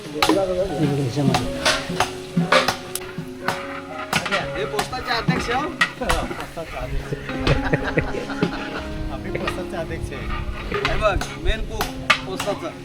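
Onions tipped into a large pot for cooking mutton at a Konkan village feast clatter with busy metallic clanks and stirring, dense and close, with a voice talking over the cooking.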